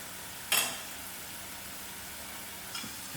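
Okra cooks in oil over low heat, giving a faint, even background sizzle with two brief louder crackles or utensil touches, quiet and close with no talking.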